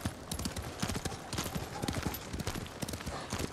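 A horse's hooves clip-clop at a steady trotting rhythm in Ghost of Tsushima, close and busy, with dense repeated hits under background game noise.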